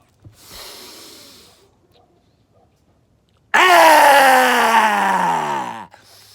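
During a morning breathing practice, a person with wide-open eyes lets out a long, loud open-mouthed "ah" scream that slides downward in pitch, preceded by a softer breathy exhale and a brief pause.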